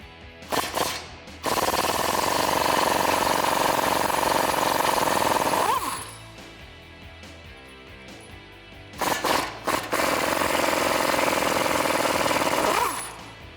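Pneumatic impact gun hammering loose the 21mm caliper bracket bolts on a 2014-2020 Ford F150, two long loud rattling bursts of several seconds each, separated by a quieter pause with brief clicks.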